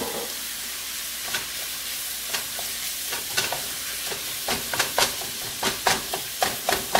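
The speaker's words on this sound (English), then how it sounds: "I love it when that rosemary hits the heat" Dried rosemary and red pepper flakes sizzle in hot oil for spaghetti, making a steady soft crackle broken by sharp pops and stirring clicks that grow busier toward the end.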